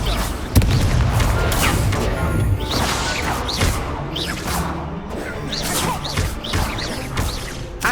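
Fire spell blasts in Hogwarts Legacy, repeated booming bursts and whooshing crashes with rising swishes in a busy game soundscape.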